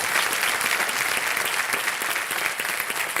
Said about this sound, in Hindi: एक बार जोरदार तालियां फिर हो जाएं कविता जी के लिए।